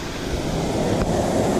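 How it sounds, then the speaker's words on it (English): A waterfall reached along a trail gives off a steady, broadband roar of rushing water, mixed with some wind buffeting on the microphone and no voices. "Finally reach the waterfall."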